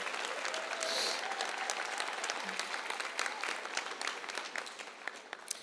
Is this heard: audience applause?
yes